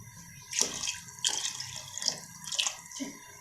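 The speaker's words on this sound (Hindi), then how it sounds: "पानी डाल देंगे।" Water is poured in a few uneven splashing bursts into a pot of softened peas for pea pulao, close and fairly quiet, with no talk.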